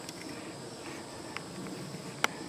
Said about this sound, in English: that's my bees on the front